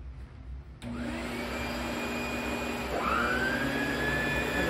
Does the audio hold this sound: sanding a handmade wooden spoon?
no